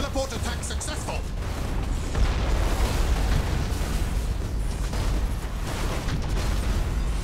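Explosions and booming blasts from space combat in Battlefleet Gothic Armada II, a dense, continuous rumbling roar with bursts layered throughout, under in-game voice callouts.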